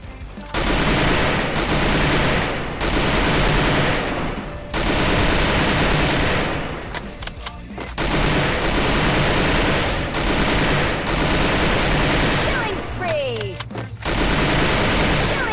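Bursts of SCAR assault rifle fire in the Free Fire mobile game, loud rapid automatic volleys separated by brief pauses, with game effects in the mix.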